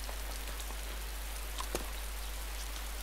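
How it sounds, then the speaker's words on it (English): Heavy rain falling in the survival video game DayZ, a dense, even hiss of raindrops that stays steady throughout, with one brief louder patter near the middle and no voices. "As you can see, it's pissing down the rain now."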